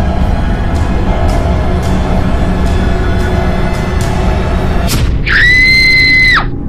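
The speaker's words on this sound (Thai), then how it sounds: "ออยสะดุ้งตื่นและกรีดร้องจนสุดเสียง" A girl in a cartoon screams as she jolts awake, a loud, sustained high shriek bursting in near the end over a constant background bed with faint rhythmic ticks before it.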